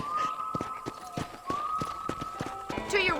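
Horse hooves clip-clop at a riding pace in the Western game Red Dead Redemption, a quick run of sharp, close hoofbeats under a steady tonal backdrop with a snort or whinny near the end, while people talk over it.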